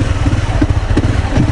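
A 250cc manual motorcycle pulls away in first gear under light throttle, its engine giving a loud, close, throbbing rumble with a slight clatter, in a brief burst without speech.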